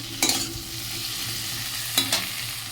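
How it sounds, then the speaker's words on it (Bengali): Potatoes fry in a pan under a steady low sizzle, broken by two distinct scraping stirs of a spatula, one near the start and one near the end. "আলুটা ভাজা ভাজা হয়ে গেছে"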